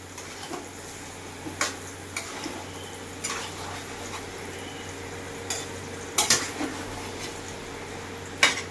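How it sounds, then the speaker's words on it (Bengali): Chicken being stirred and fried with spices in a pan, with scattered spoon scrapes and clinks over a low, steady sizzle. "এবার আমি খুব সুন্দর করে চিকেনটাকে নেড়ে নেড়ে কষিয়ে নেব"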